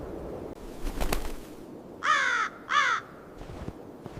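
A raven out in wild wolf country gives two loud, harsh caws in quick succession against a soft outdoor background.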